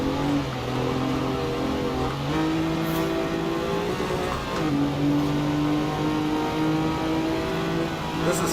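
A car drifting in the racing game Forza Horizon 4 holds a loud, steady engine drone, its pitch shifting a few times as the gears change over several seconds of sustained sliding. No one speaks.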